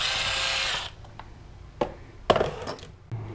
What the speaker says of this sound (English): I drilled a little hole underneath